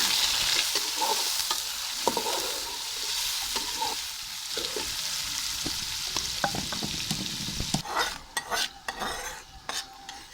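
Sliced onions sizzle and crackle steadily in hot oil for biryani while a spoon stirs and scrapes the pan, ending with a few clinks.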